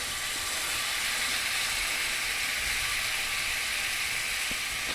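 Minced garlic sizzling in a hot pan, a steady, close, even hiss that runs unbroken from start to finish with no voices over it.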